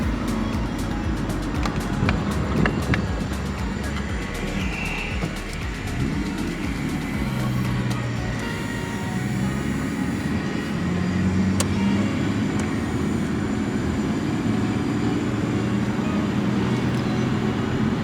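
A Nissan R34 Skyline drives along, its steady engine and road rumble continuous and fairly loud throughout, with shifting low tones as it moves through traffic.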